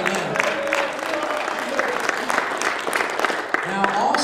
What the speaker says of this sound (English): Let's give the Lord a clap offering for that.